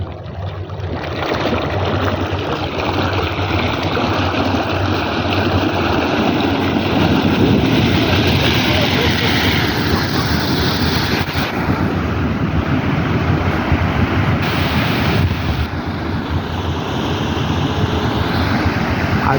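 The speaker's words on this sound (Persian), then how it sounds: "حداقل 10 متر آب پرتاب میشه." Water bursts up at least ten metres into the air in a sustained, loud roar with heavy rushing wash and wind buffeting the microphone, holding steady throughout.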